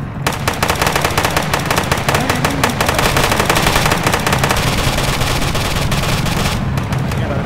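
Rapid, loud automatic gunfire in the video game Pop Life 4, a dense sustained burst of shots close up that runs almost without pause from start to finish.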